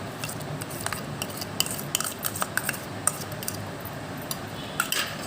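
Boiled tamarind pulp being stirred into a drumstick chutney mixture, with a run of close, sharp clinks and scrapes of a utensil against the pot over a soft continuous rub, no voices.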